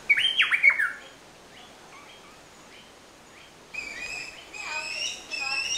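Tropical birds in North Queensland, Australia, calling with sharp chirps and whistles, a brief burst at first, then a livelier chorus of trills toward the end, at moderate distance and with no one talking over them.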